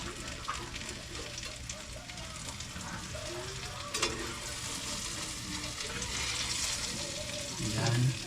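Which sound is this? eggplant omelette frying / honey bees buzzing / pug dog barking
eggplant omelette frying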